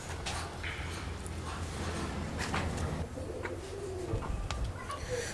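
Fancy pigeons, including a male eight-feathered King, coo at a pigeon farm in Natore amid a steady hum of background noise and scattered rustling, with faint voices nearby.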